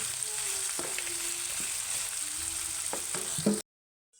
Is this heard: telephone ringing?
no